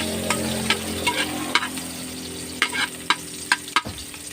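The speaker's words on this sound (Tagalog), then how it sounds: "Gisayin lang muna natin yung rekado." Garlic and onion sauté in a pan for fishball sauce, a steady close sizzle punctuated by sharp, irregular utensil clacks and scrapes against the pan.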